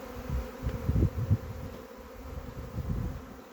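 Honeybees drone around the front of a hive while a newly caught swarm settles. The steady low buzz is close and rises and falls in soft swells, with no voices.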